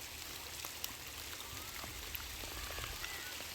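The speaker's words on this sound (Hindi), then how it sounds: "यहाँ पर बारिश आ चुकी है" Steady rain falls at an ashram in Karaundhi village, a soft, even hiss with scattered faint drips, distant and low, no voices over it.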